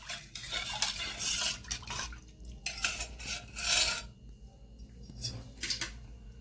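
A spoon stirs a spice mix into tamarind water in a metal bowl, making irregular scraping and clinking strokes. The strokes come in short bursts with small pauses, close by and moderately loud, and no one speaks.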